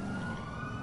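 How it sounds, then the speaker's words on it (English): Police sirens wail in the video game GTA 5, a steady tonal whine held over low engine rumble, fairly faint and brief. "Why do we hear sirens?"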